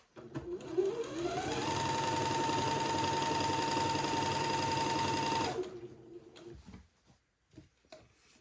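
A sewing machine stitches a seam on a cotton daygown, revving up into a steady, close whir for about four seconds before stopping, followed by a few faint clicks and rustles.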